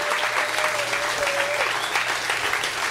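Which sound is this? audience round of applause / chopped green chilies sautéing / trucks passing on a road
audience round of applause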